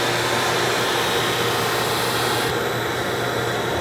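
A motorized buffing wheel polishes a briar tobacco pipe during a timed pipe-making contest, giving a steady, loud whirring hiss that runs continuously without break and shifts slightly in tone partway through.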